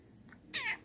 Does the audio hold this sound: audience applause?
no